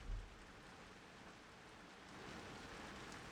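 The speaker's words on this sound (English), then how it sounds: "I don't know if you can hear the rain coming down. I can hear it in the roof of my studio." Rain drums on the roof of a studio, a faint, even hiss of drops that swells slightly toward the end, heard from indoors with no talking.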